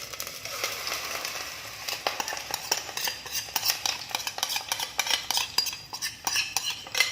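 A spoon clinks and scrapes against a hot pan as a spicy chicken mixture for a chicken cake is added and spread around, in close, irregular clatters with faint crackle underneath.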